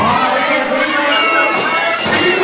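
A wrestling show crowd roars and cheers wildly, a dense, loud wall of shouting voices that holds steady for the whole moment with no single voice standing out.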